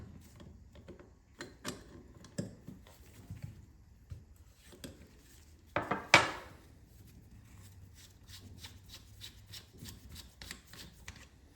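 Mechanic pulling the drain and float bowl off a 2002 Honda CR250 carburetor: scattered small metallic clicks and light taps, with a brief louder clatter midway, close and fairly quiet, no talking.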